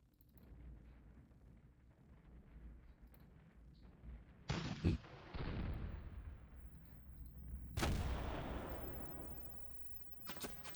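Gunfire and artillery blasts from the World War II strategy game Panzer Campaigns: Stalingrad '42, a quiet rumble broken by two loud, sudden bursts with decaying noisy tails, one around the middle and a heavier one near the end.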